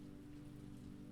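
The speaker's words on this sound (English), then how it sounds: "Outside, the rain's lullaby continues unbroken" Steady rain falls outside a quiet library, a soft continuous patter and hiss with no other sounds.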